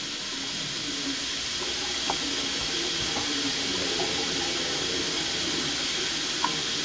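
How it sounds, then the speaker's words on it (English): A Semitool 870S machine running its water rinse cycle gives a steady, loud hiss of spraying water, like a running tap, with a few faint clicks and knocks over the top. "Going through the rinse cycle."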